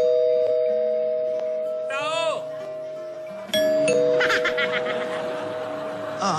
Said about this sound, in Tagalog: Tumutunog yung doorbell, di ba?